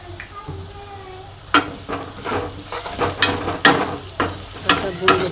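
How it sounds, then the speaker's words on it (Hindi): Masala with chicken fries in a pan, a soft steady sizzle broken by repeated sharp scrapes and knocks of a spatula stirring, close and fairly quiet, with pumpkin about to be added. "थोड़ा भून लेते हैं। मसाला फ्राई हो रहा है।"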